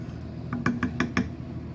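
A spoon stirs Worcestershire sauce and pepper into a pot of beef stock soup, making a short burst of five light, close metallic clinks and taps in quick succession over a quiet room background.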